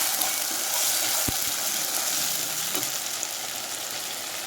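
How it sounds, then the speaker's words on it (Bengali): Onion paste frying in oil in a wok, a loud, steady broadband sizzle with a couple of soft stirring knocks, close and continuous throughout. "পেঁয়াজ বেশ ভালো করে কষিয়ে নিচ্ছি"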